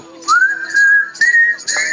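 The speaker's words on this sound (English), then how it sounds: "Whistling." A crowd whistles a melody together at an outdoor annual pilgrimage gathering at Manzanar, a loud, close sustained tune with sharp accent bursts through it.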